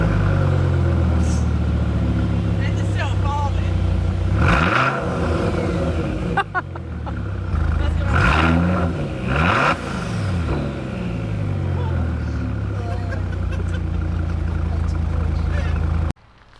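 A V10 car engine idles and revs up several times, loud and close, while people talk in the background.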